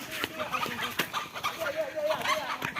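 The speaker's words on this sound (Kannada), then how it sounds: "ಯಾವ್ದೋ ಒಂದು ಕೋಳಿ ಹಿಡಿಯೋಕ್ಕೆ" A chicken being chased clucks and squawks in short, agitated bursts, close by and uneven in rhythm, amid scuffling and raised voices.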